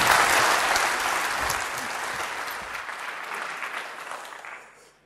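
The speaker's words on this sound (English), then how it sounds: "Please give a warm round of applause to Eamon Leonard." Warm audience applause for a keynote speaker at a conference, a dense sustained wash of many hands clapping that gradually softens and tapers off at the end.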